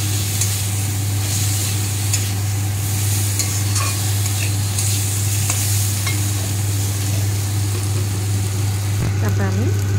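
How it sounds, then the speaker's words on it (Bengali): Spice paste with cumin powder stir-fried in a wok, a steady close sizzle throughout with scraping and stirring clatter of the spatula, plus a constant low hum beneath. "জিরে গুঁড়ো দিয়ে ভালো করে মশলাটাকে কষাতে হবে"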